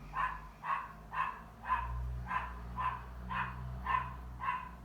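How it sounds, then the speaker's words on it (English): A small dog barks about eight times in an even, repeating rhythm, the sharp barks standing out over a low background hum indoors. "Be quiet, rat dog."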